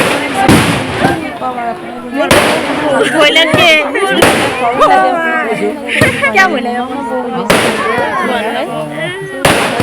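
Firecrackers burst loudly at an Assamese wedding, several sharp cracks and bangs spaced irregularly across the clip while people talk and call out over them.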